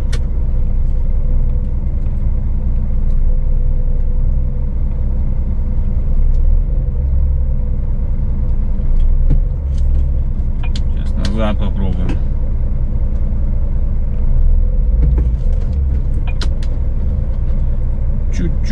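A car engine rumbles steadily as it pulls away in gear, with people talking over the drone throughout.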